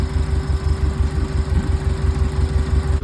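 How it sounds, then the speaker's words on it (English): An electric radiator fan runs loudly and steadily on a 1974 VW bus fitted with a Subaru engine and a belly-mounted radiator, a constant airy whir over a low rhythmic engine idle, close up with no voices. "You can hear the electric fan. She's loud, but blowing a lot of air out."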